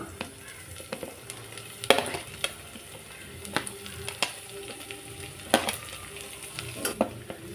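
Green chillies with ginger and garlic, then onions, frying in hot oil in a pan, a soft steady sizzle broken by scattered scraping stirs from a spoon against the pan.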